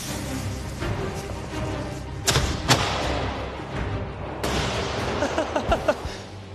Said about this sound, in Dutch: Diepe, doffe dreun, dat is echt gewoon een lekkere.